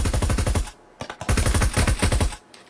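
Automatic gunfire shot through a wall during a Breachers match, two loud rapid strings of shots broken by a brief pause and a few single cracks.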